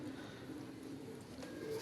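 Domestic pigeons cooing softly at a breeder's home loft, a low steady murmur of coos that continues throughout at a modest distance.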